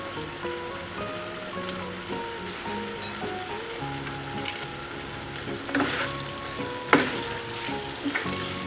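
Spicy chicken roast fries with curry leaves in a pan, giving a close, steady crackling sizzle with occasional louder spits and stirring scrapes throughout.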